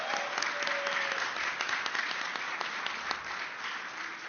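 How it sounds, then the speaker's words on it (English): Audience at a Libertarian Party presidential debate in Illinois applauds steadily for several seconds, a dense wash of many hands clapping that continues at even strength throughout. "give a round of applause for them"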